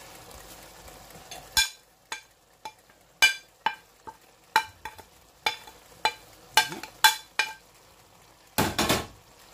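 A spoon stirs a sauce of salt, basil, ras el hanout, beef stock and minced garlic in a pan for an eggplant gratin, with about a dozen sharp, evenly spaced clacks and scrapes close by and no talking.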